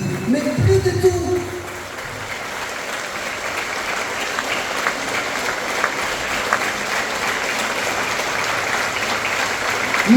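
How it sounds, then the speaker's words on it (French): A crowd at a street demonstration for culture and equality claps steadily for several seconds, a broad, even roar of applause that follows a brief spoken line at the start. "Encore, on s'applaudit pour que ça ne recommence plus"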